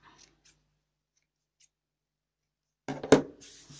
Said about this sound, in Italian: Per velocizzare io taglierò così.